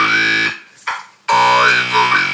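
A sung vocal line shaped through a talk box, a loud buzzy synth-like tone bending in pitch, cutting out briefly with a short blip before resuming as a sustained, warbling phrase.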